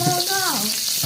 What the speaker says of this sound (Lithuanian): mes dabar apkepsim smidrus